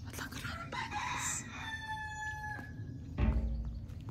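A rooster crows once, loud and drawn out, followed by a brief low thud, in rural France.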